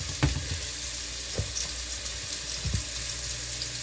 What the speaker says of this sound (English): I just love the sizzle